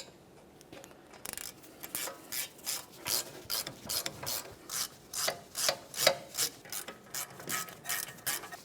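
A ratchet wrench snugs the front brake caliper bolts on a 1994-1997 Honda Accord, giving a close, steady series of rhythmic clicking bursts with brief pauses between strokes and no talking.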